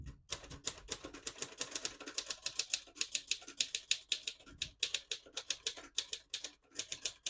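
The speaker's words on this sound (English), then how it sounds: "Very responsive typewriter. You don't have to wait for the next key." A 1958 Royal Futura 800 portable typewriter clacks rapidly and steadily up close, its keys striking in a quick, even rhythm with brief pauses.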